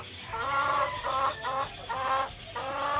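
Backyard chickens cluck close by in quick bursts of repeated nasal calls, several rounds in a row with brief pauses between, over faint outdoor background and no talk.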